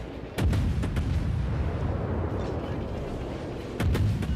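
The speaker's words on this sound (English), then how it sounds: "So I open up on him with my guns." Destroyer guns on a Fletcher firing in the naval battle game World of Warships: loud booming salvos, one near the start and another near the end, with a rumbling roar of battle sustained between them.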